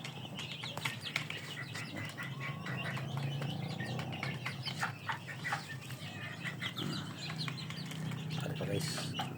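Farm chickens clucking and a rooster calling, with repeated clucks and chirps spread across a steady outdoor background, fairly close and moderately loud, while a person talks at times.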